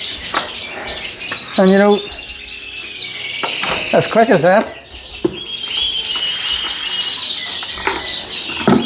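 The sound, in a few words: aviary birds chirping and flapping in bird room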